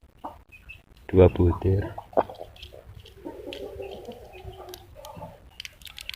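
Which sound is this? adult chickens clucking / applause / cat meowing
adult chickens clucking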